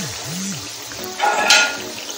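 Banana fritters (ethakka appam) fry in hot oil, a soft sizzle that swells briefly into a louder crackling burst before settling back down.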